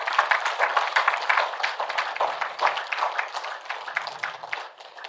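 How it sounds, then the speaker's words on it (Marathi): A crowd at a Marathi meditation gathering claps for itself, a dense, steady patter of many hands that holds close and loud throughout with no voices. "तर स्वतःसाठी तुम्ही टाळ्या वाजवाव्यात"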